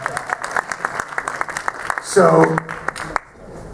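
Audience at a convention clapping in scattered, sparse bursts, close and fairly loud, with people talking over the claps and a voice swelling briefly midway.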